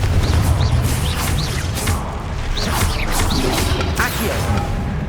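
Confringo blast spells hit in a Hogwarts Legacy fight, giving repeated whooshing bursts and crashing impacts at an irregular pace over a dense, constant bed of combat noise.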